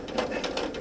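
A domestic sewing machine runs fast in a free machine embroidery pass across fabric, its needle pulsing in a rapid, even rhythm of small stitches, close and steady for under a second.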